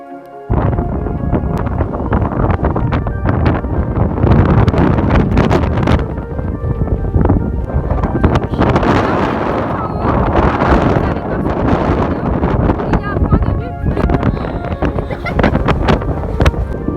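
Strong wind buffets the microphone at Meteor Crater in Arizona, a loud, continuous roaring gust with surging peaks that never lets up, close and harsh throughout.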